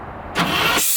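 An engine is cranked over by its starter, a short, loud burst of whirring in the garage that stops abruptly after about half a second.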